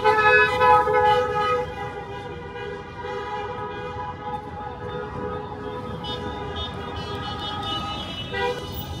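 Taxis stream past on a busy street, with loud, sustained horn toots layered over the rumble of traffic close by.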